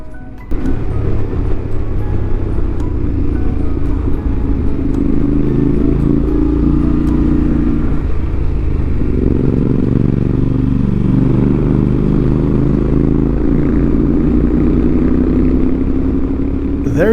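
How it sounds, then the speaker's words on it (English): Two Yamaha Ténéré 700 adventure motorcycles riding fast together, their exhausts droning loud and continuous with rising and falling engine tones, mixed with wind rush throughout. "It just sounded so epic having both the exhausts ringing through my ears simultaneously while hauling butt"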